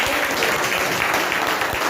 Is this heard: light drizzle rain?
no